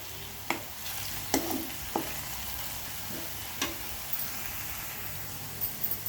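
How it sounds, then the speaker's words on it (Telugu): Cumin powder and white pepper fry quietly in a pan for zeera rice, a low steady sizzle broken by a few sharp spoon taps and stirring clicks. "ఒక్కసారి మనం ఫ్రై చేసేసుకుందాం."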